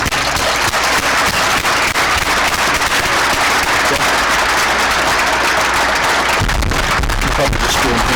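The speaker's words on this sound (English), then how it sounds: "Let's give a big hand of applause for Damian." Applause rises in a small room after a men's basketball press conference with Damian Lillard. Dense, crackling claps sound very close and loud, and they continue without a break.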